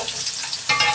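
Potatoes fry in a pan with cumin tempering, giving a steady close sizzle that briefly grows louder near the end.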